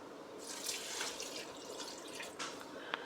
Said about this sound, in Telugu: ఈ గ్లాస్తో 1 గ్లాసు నీళ్ళు పోస్తున్నా.